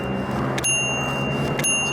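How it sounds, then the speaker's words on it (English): The small bell of a 1920 Noiseless Model 4 typewriter rings twice, close and clear, each ding leaving a sustained ringing tone over a low background hum. "The bell mechanism like this, you touch and then hit bell."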